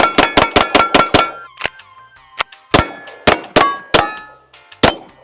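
Pistol shots ring off steel target plates at a shooting range, a rapid string of six sharp metallic clangs followed by slower, spaced single impacts, each leaving a bright ringing decay, loud and close.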